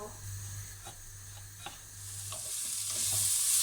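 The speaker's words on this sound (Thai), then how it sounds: "คราวนี้นะคะก็จะมา คั่ว3 ชั้นของเรา" Pork belly pan-roasting for a traditional carbonara: a soft, continuous sizzle close by with repeated light stirring taps and scrapes, the frying growing louder and hissier near the end.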